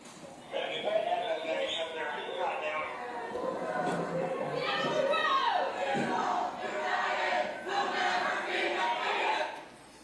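A protest crowd blocking a roadway near a bridge, many voices shouting and chanting together in a dense, continuous roar that swells and fades over several seconds.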